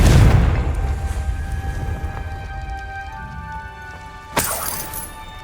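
A Confringo fire spell detonates in Hogwarts Legacy: a loud, close blast with a crackling, rumbling tail, then a second sharp crack-like burst near the end.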